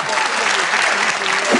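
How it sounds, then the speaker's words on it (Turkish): Brief burst of audience applause, dense and steady clapping under a faint murmur of voices. "Alkış."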